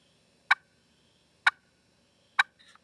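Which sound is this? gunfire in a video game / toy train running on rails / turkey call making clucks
turkey call making clucks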